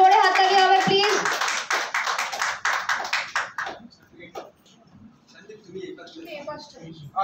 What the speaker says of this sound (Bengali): একবার জোরে হাততালি হবে প্লিজ